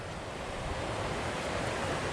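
Water from an MSR Autoflow gravity water filter pours in a steady, even rush, a continuous noisy flow with no talking.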